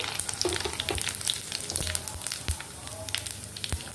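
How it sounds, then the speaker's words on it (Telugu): Mustard seeds and cumin sizzling and popping in hot oil with fried dried red chillies for a pickle, a steady crackling fry with sharp scattered pops, close and fairly soft. "ఇప్పుడు ఆవాలు జీలకర్ర వేసేసుకున్నాం"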